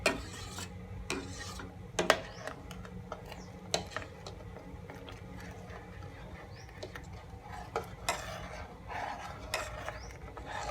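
Coconut milk boils in a pot with pounded curry paste stirred in, giving a soft bubbling bed broken by repeated scraping clinks and taps of a spoon against the pot at irregular intervals.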